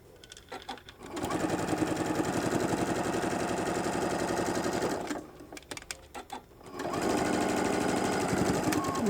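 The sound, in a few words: sewing machine stitching a shoulder bag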